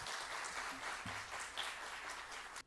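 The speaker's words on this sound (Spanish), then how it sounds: "vamos a recibirlo con el aplauso merecido" Faint, steady applause from an audience at a school and university event, a continuous distant patter of clapping with no voices over it, cutting off abruptly at the end.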